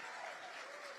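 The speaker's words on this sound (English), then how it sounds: "let's clap for 26 years of marriage" A crowd at a political rally in Austin, Texas claps, a brief, faint burst of applause heard from some distance.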